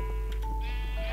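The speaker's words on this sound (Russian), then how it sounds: "А тут прямо над нами наши овцы." Sheep bleating in the Minecraft video game, a couple of short nasal bleats rising over a steady hum of game music and background drone.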